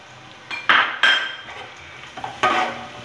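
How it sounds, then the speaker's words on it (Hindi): Onions for Kabuli pulao tipped into an open cooking pot, giving a few sharp clanks and clattering bursts of metal against metal, close and distinct with pauses between them. "अब हम इसमें अनियन डालते हैं"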